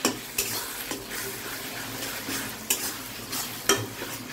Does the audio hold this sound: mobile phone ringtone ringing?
no